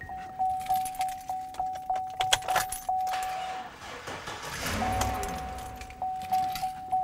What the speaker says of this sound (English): Let's hook this guy up and just see if it will start the truck as it sits.